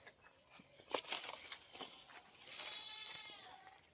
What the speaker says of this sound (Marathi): शेळ्यांना वरडायला लागले